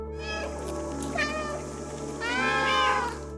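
Several drawn-out video game cat meows, clear and close, with a steady low hum running underneath; the last meow is louder and longer.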